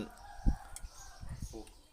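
Domestic chickens cluck in short, scattered bursts close to a house, mixed with someone talking and outdoor background noise.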